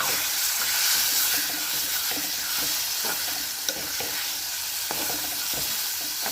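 Small mackerel dropped into a hot pan of spiced masala fry with a steady, bright sizzle and hiss, punctuated by occasional soft clicks and stirring scrapes, close and continuous with no talking.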